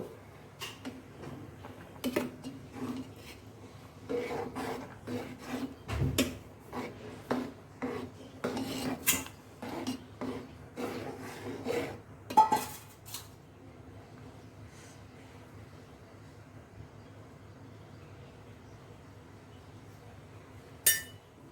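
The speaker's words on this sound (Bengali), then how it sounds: "এভাবে নাড়িয়ে নাড়িয়ে আমরা সেমাইটা ফোটার অপেক্ষা করব" A spoon stirs semai vermicelli cooking in a pot, giving a series of scraping clinks and taps against the metal for about twelve seconds before the sound fades to near quiet, with no talking.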